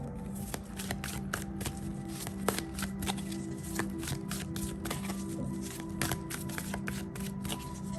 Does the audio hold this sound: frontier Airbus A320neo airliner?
no